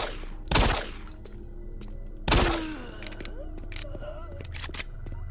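Gunfire in Doom 3, two loud sharp shots spaced about two seconds apart, each with a short decaying tail, over a busy backdrop of game sounds and mechanical hums.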